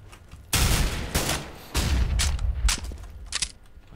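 Gunfire in Counter-Strike: Global Offensive comes as loud, close rapid bursts, with two long volleys followed by scattered shorter shots fading toward the end.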